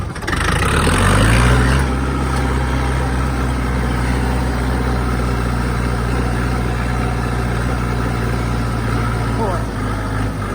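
A small Kentavr DV tractor engine runs loudly and steadily, a low chugging idle that holds even throughout after a brief rise at the start.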